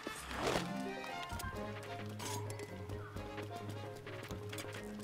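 Horse hooves clip-clopping in a rhythmic gallop in the video game Zelda Breath of the Wild, steady and fairly loud over game music, with a brief whinny-like burst early on.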